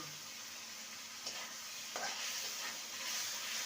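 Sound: soaked potato pieces frying and stirred in spice masala

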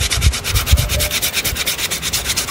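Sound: sandpaper sanding hard lemon tree wood for a slingshot

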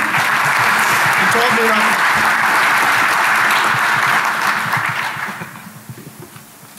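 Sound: audience applause at conference talk

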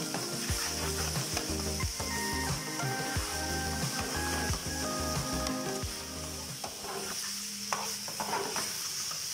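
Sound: stir-frying chicken with cabbage and green onion

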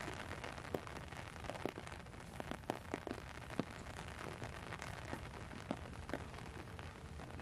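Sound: rain growing heavier outdoors

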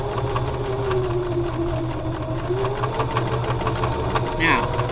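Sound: sewing machine stitching zipper tape and cork fabric

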